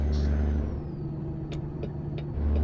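A low, steady truck engine drone with rumbling road noise in American Truck Simulator with Zmod sound mods, plus a few short air brake hissing bursts over the top.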